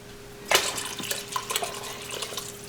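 Tap water runs into a kitchen sink with clinks of dishes while filling up water for a bean soup with ham and bacon, a steady close splash starting about half a second in, with no one talking.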